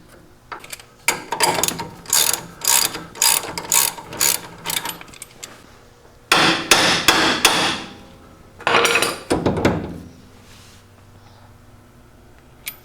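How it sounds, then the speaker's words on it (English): Loosening the upper ball joint nut on a lifted Toyota with a ratcheting tool: close, repeated bursts of loud mechanical rattling and clatter, in short groups with brief pauses, then two longer bursts before it goes quiet. "Next up, we're going to loosen up the upper ball joint."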